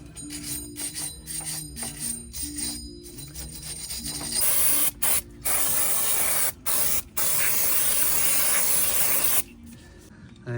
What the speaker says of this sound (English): I'm just going to put a little bit of spray grease